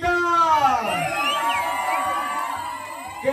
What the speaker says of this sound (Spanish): Vamos a gritar más fuerte.